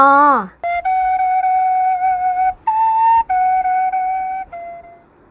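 A short spoken word, then a Thai khlui phiang aw flute plays several breathy, pure-toned held notes separated by brief pauses, clear and close.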